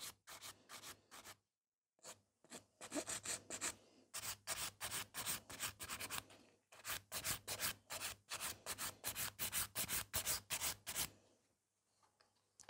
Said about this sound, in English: So keep filing.